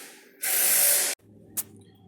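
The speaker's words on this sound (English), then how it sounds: "I've sprayed the O-ring with some silicone spray" A single sustained silicone aerosol spray hisses for under a second onto a water pump O-ring, loud and close, followed by quiet handling and a brief second spritz.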